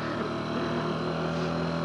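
A Yamaha Grizzly 350 4x2 quad drifting on an off-road track gives a steady, droning engine note close by, with a loud, continuous motor hum throughout and no talking.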